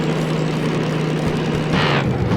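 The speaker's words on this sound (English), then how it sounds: "you hear the gears crunching there when you don't idle the engine properly when you're shifting" A diesel-mechanical locomotive in the Derail Valley train simulator grinds its gears on a badly timed shift: a brief, harsh crunching burst rises over the steady low drone of the engine.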